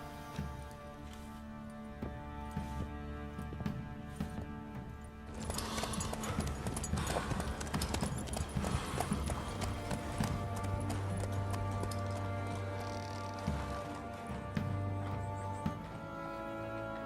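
Horse hooves clip-clop at a steady walking rhythm in The Witcher 3, running through most of the stretch beneath a continuous musical and ambient game soundscape.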